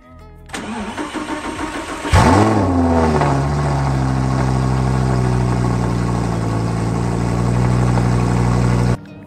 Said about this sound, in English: welcome to my 2011 Audi R8 R-Tronic